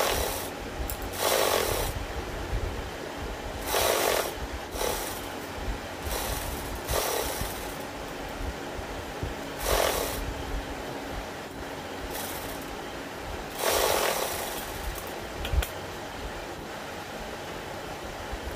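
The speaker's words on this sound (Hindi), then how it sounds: "अब हम इस पे चाप सिलाई लगा लेंगे।" A sewing machine stitches a double katori blouse in short whirring runs, about seven bursts of varying length broken by quiet pauses.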